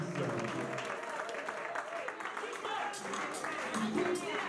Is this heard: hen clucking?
no